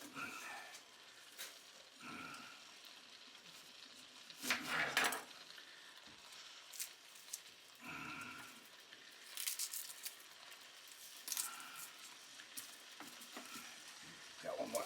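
Onion dropped into a frying pan for beef liver with fried potatoes, with steady sizzling, stirring, and utensil scrapes and clatters at close range throughout.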